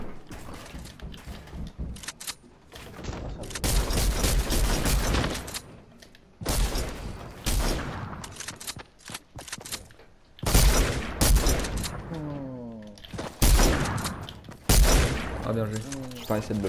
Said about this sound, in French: Le seul point faible de l'arme un peu c'est qu'elle est pas automatique, elle est semi-automatique